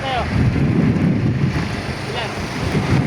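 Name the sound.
strong wind at sea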